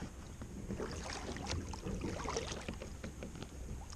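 A kayak scrapes and is pushed out onto the water for bass fishing, followed by steady wet sloshing and paddle splashes over light wind noise, close and continuous.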